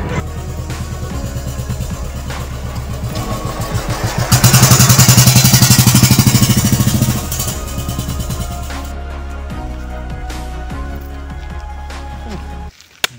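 Motorcycle ridden off-road through forest, with a steady engine drone, a louder revving surge in the middle and rattling clatter over rough ground, close by.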